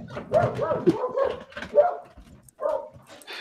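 Dogs barking and whimpering in the background during a podcast recording, several uneven yips and barks coming in bursts, moderately near, with no clear talk over them.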